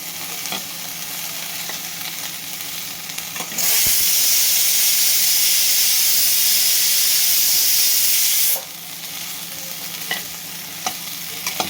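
Orange peels simmer covered in water in a cooking pan, giving off a steady sizzling hiss that swells into a loud rush of steam for several seconds before settling back to a gentle simmer with occasional stirring clinks.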